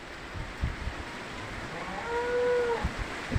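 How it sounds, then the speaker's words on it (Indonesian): A cow lets out a drawn-out moo at a moderate distance outdoors on a windy afternoon, the call rising and falling over a rushing wind background. "Itu sapinya kok teriak-teriak"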